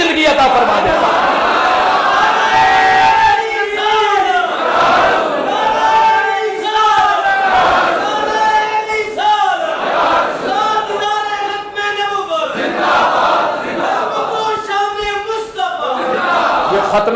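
At a religious sermon gathering, a crowd chants a Khatm-e-Nubuwwat slogan in loud, rhythmic call-and-response waves of many voices, led by a speaker's raised voice.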